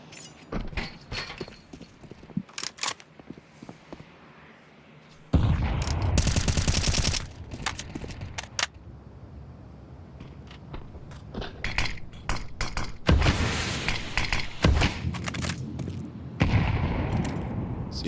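Counter-Strike gunfire during a professional esports match, with repeated rapid rifle shots in bursts and loud sustained stretches of firing and in-game noise, close and dense throughout.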